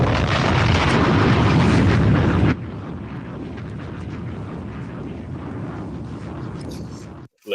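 A bomb explosion sound effect played during a wrestling talk stream gives a loud, sustained rumbling blast that cuts off abruptly, after which a quieter muffled background continues.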